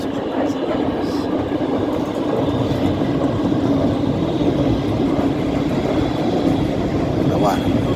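Trains passing near Rambla de Sants in Barcelona, a loud continuous rumble and rail clatter with a brief high squeal near the end, close by and sustained.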